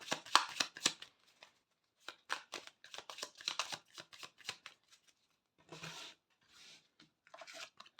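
Tarot deck being shuffled by hand, with several quick riffling bursts of card rustling broken by short silences, close and fairly faint, with no talk.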